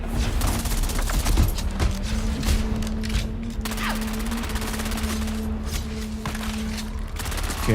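Gunner firing in Dune Awakening, a sustained rapid rattle of automatic gunfire with sharp bursts and a steady mechanical hum underneath, loud and continuous for several seconds, with faint voices in the background.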